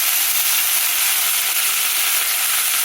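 A stalk paste cooks in hot oil with a loud, steady, close sizzle and hiss that holds unbroken throughout, with no talking.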